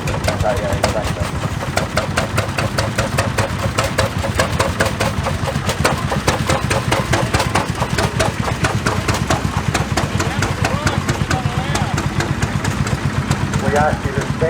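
Vintage 40 KA tractors, including a Gateway, run continuously at a vintage field day, their engines throbbing in a steady rhythmic chug with a voice talking over them throughout.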